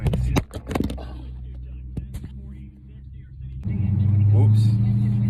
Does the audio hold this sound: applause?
no